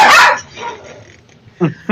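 Dogs barking indoors, a short burst of loud barks at the start and another brief bark near the end, with quieter household sound in between.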